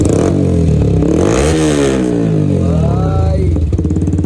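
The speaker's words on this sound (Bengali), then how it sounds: "এদিকে এই বাইকেও এক্সস্ট লাগানো" A Yamaha R15 V3 motorcycle with an aftermarket exhaust revs loudly up close, its harsh, throaty exhaust note rising and falling through several throttle blips.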